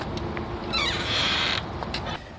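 A detachable screen door on a 2022 Braxton Creek Bushwhacker Plus 15FK travel trailer creaks as it swings open, a rising squeal lasting under a second, close by with no talking.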